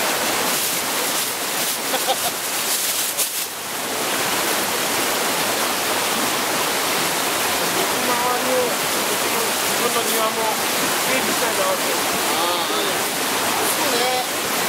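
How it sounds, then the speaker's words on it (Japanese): A mountain river flows with a steady, full rushing hiss close by, loud and unbroken throughout, with people chatting faintly now and then beneath the water. "水の流れの音がさ、どれだけ健康にいいかっていうのが"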